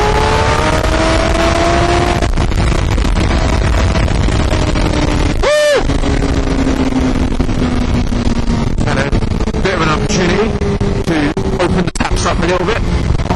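A Suzuki GSX-R 750 sport motorcycle ridden on damp roads, its engine revving up and down through gears with rising and falling pitch, loud and close, with wind noise throughout.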